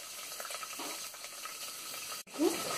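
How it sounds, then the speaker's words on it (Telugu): Onion pieces frying in hot oil for Hyderabadi chicken bagara rice give a steady close sizzle, broken by a brief dropout near the end and a louder burst of frying right after. "ఇవి కొంచెం ఫ్రై అయిన తర్వాత ఉల్లిపాయ ముక్కలను వేసుకొని వేయించుకోవాలి"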